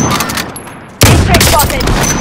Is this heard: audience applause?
no